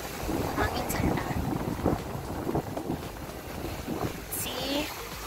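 Wind blowing by the sea near Camotes Island, a constant buffeting rush against the microphone with bursts of gusts, under occasional talk.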